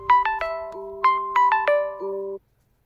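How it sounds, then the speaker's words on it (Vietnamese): A phone alarm set for two o'clock plays a bright melodic ringtone, a quick run of clear chiming notes over about two seconds, then cuts off into silence. "các bạn vừa nghe tính là chuông điện thoại của mình hẹn 2 giờ mình dậy"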